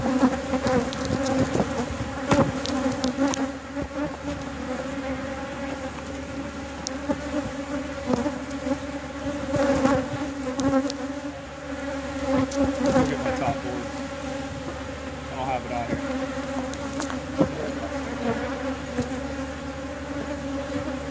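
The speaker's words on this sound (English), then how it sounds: "you got tons of bees on you" Honey bees buzz densely and continuously around a hive, a thick droning swarm close by with occasional individual bees passing nearer.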